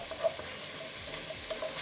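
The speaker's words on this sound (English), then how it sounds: "That wooden spoon out and get it mixed up." Minced garlic frying over medium-high heat in a pan, stirred with a wooden spoon; a soft steady sizzle with faint scraping strokes, fairly quiet and without talk.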